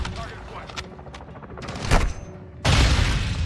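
A bomb detonates during combat in Call of Duty Modern Warfare II: a crackle of gunfire, one sharp blast, then a loud, broad explosion that erupts and keeps roaring to the end.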